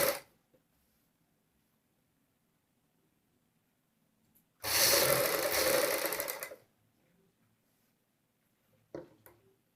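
A sewing machine runs one loud, steady two-second burst while stitching a kameez collar, with a brief whirr at the start and a short clatter near the end, alone in an otherwise quiet room.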